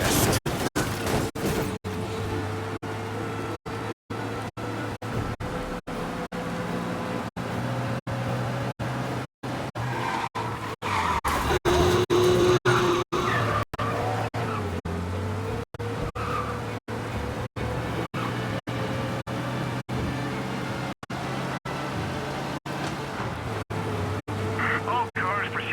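A car roars at speed through a police pursuit in the video game Mafia: Definitive Edition, with a steady, loud engine drone, brief tire skids and voices talking over the chase throughout.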